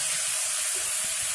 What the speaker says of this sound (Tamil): தக்காளி சேர்த்து வதக்கிறேன்